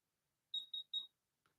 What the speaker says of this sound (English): We'll reset the buzzer once.